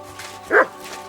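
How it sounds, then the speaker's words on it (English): One short, clear bark from a dog in Kingdom Come: Deliverance II, sounding somewhat distant and standing alone over quiet game ambience. "Barking."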